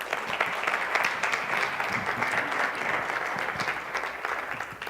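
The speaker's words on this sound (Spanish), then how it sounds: "les pido un fuerte aplauso para él" Sustained, loud audience applause welcoming a guest speaker at a talk, a thick continuous wash of clapping from many people with no speech over it.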